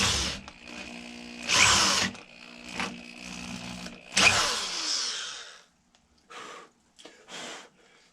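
An electric drill fitted with a 5/16 bit whines in bursts as it drills while a simple ball starter is being made, with loud spikes as the bit bites, then a few short, quieter pulses near the end.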